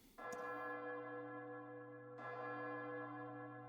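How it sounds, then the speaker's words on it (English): Church bells built as game ambience, soaked in added reverb: a first deep bell strike rings out with a long sustained hum, then a second strike lands about two seconds later and blooms again, alone and moderately loud. "Here are the church bells with the added reverb."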